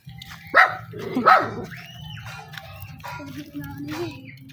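A dog barks a few times at close range on a hot-weather neighborhood walk, sharp yelps over a low steady hum, with faint voices nearby.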